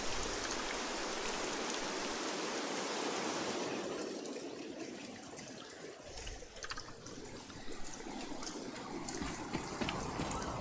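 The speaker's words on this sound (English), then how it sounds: "I don't think I've ever had a game where I was so grateful when it rained." Rain falls in the Midnight Suns video game, a soft, steady hiss of drops that thins partway through and continues quietly to the end, with nobody speaking.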